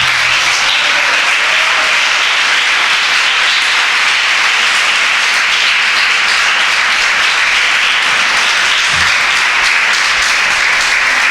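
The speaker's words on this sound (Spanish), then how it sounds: "aplauda a Cristo" A church congregation applauds loudly and continuously during a service, a thick, unbroken roar of many hands clapping that stays at the same high level throughout.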